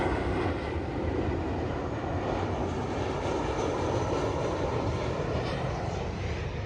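A steady loud roar of an airplane engine near an airport fills the air outdoors at a cemetery, a broad continuous rumble holding level throughout with no voices.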